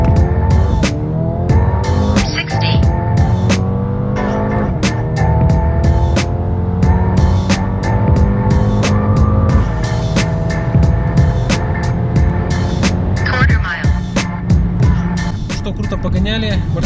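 Yellow Mercedes accelerating hard during a 0-100 km/h and quarter-mile acceleration test, loud engine rising through several gear shifts with tire noise, close and continuous, with some talk over it.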